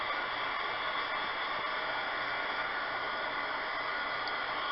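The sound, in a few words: heat gun blowing on alcohol ink painting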